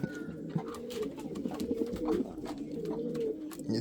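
Pigeon cooing in a home breeding loft, soft repeated low coos running through the clip alongside rustling and faint background noise.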